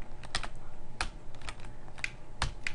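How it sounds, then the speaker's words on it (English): Computer keyboard keys are pressed in a sparse, irregular series of sharp clicks, about eight taps spread out, close by at moderate volume, with no speech. "I'm moving first on the keyboard and then joystick and nothing changes"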